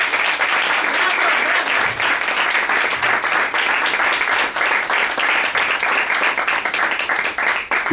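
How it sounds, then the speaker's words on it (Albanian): Strong, sustained applause from an audience at a Flag Day gathering, dense steady clapping filling the whole stretch without a break, loud and close. "dua një duartrokitje shumë të fortë"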